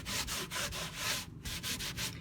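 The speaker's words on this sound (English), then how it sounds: "now I'm using a cloth, an old piece of cloth, to just spread it" An old cloth wipes excess stain across a wooden cheese board in quick back-and-forth strokes, giving rhythmic, close, soft rubbing swishes with short gaps and no talking.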